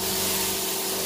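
An HVLP spray gun from Hyper, set for a wide fan pattern, gives a steady, loud airy hiss with a faint underlying hum, unbroken for the whole brief moment.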